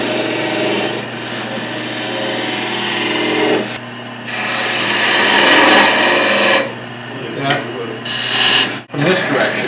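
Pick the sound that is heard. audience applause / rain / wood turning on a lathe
wood turning on a lathe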